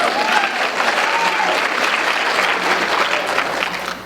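An audience at a manifesting seminar breaks into loud, dense clapping that is close and sustained for several seconds, with a few voices heard faintly under it.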